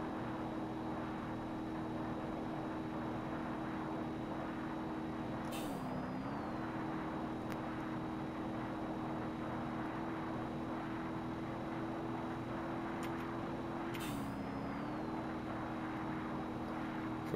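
Turbocharged race car engine in BeamNG.Drive held steadily near an 8500 RPM limit, a continuous droning tone with two brief dips and rises as it shifts, plus faint whooshing in the background.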